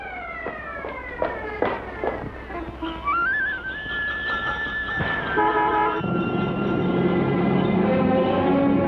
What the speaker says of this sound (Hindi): अरे सीटी बज गई, मैं चला।